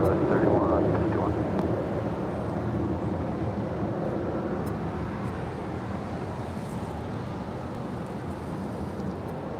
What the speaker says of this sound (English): That was JetBlue Airways Flight 1700 heading to Fort Lauderdale, Florida, and at A321 taking off there on 25 right.